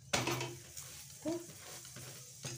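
An aloo paratha cooks on a griddle with refined oil, giving a soft steady sizzle under a few scraping and clinking utensil sounds as it is turned. The sound is fairly quiet and no one speaks.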